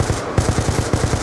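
A rapid run of gunshots from a shooter video game, about nine evenly spaced cracks in just over a second, loud and close.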